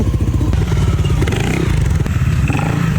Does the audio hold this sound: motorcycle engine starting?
yes